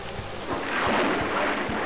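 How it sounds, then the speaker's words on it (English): Rain pours steadily in the Driver video game on PC, with a loud roll of thunder swelling through the middle and a series of sharp low thuds underneath. "As if rain wasn't bad enough, now there's lightning and thunder too, which is also super loud."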